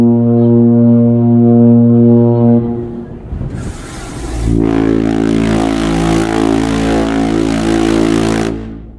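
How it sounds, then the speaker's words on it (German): The Queen Mary 2's foghorn sounds its daily noon blast at sea, a loud, deep, sustained horn tone lasting several seconds, followed by a broad roaring rush of wind and sea noise. "Jeden Tag um 12 Uhr kann man auf der Queen Mary 2 das Nebelhorn hören."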